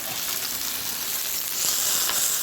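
Pork loin searing in a hot pan on an induction cooker, a steady bright crackling sizzle with fine popping spits, close and continuous without any voices.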